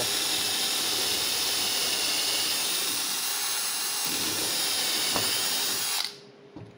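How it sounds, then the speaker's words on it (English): A power drill whirs continuously at high speed with a steady hiss while drilling an aircraft rear spar, then cuts off abruptly near the end, leaving near silence. "That's a much better spinning drill."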